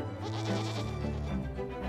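Goats in the video game Blanc bleat repeatedly, with wavering, nasal cries that overlap close by and carry on without pause.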